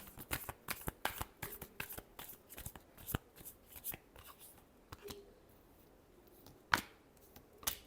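Tarot cards are shuffled by hand in a rapid series of crisp riffling bursts and snaps, close and fairly quiet, with brief pauses between the flurries.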